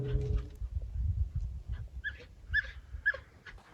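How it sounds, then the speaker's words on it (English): Dogs whimpering in fear while fleeing from woods during a camping trip, soft high whines and yips in short bursts over low rustling and movement noise, fairly close. "So the dogs were literally running away from the woods in fear, like whimpering almost."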